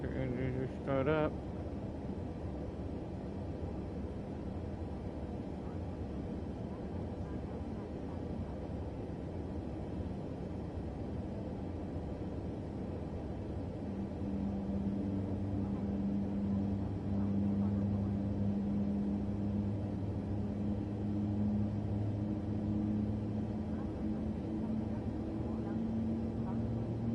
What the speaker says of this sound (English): There it is, there's the engine to start up.